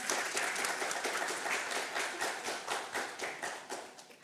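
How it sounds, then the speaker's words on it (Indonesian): Applause from attendees at a PSSI press conference on the 2023 U17 World Cup and Indonesian football reform: many hands clap in a brisk, fairly quiet burst that thins out toward the end. "Boleh berikan tepuk tangan yang meriah."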